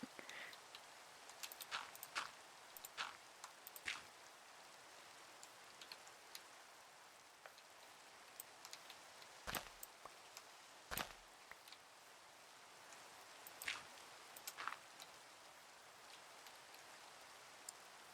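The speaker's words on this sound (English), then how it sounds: "It's raining for the 10 millionth time." Rain in the video game Minecraft falls as a steady soft hiss at low volume, with scattered sharp ticks and clicks from gameplay over it.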